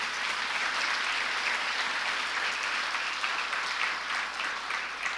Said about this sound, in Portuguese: Aplauda Jesus também.